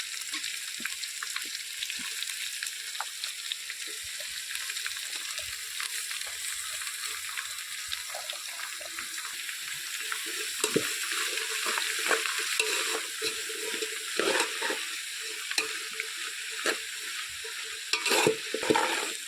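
Onions and curry leaves fry in a pan for a homestyle chicken curry, a steady bright sizzle running throughout with occasional louder crackles and scraping stirs toward the end.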